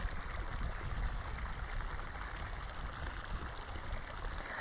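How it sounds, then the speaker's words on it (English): Hot thermal water bubbling and flowing out of a steaming lake at Kuirau Park, Rotorua, a continuous rushing, gurgling wash heard close and steady throughout, with no voices. "Oh, look, the water's just bubbling over here"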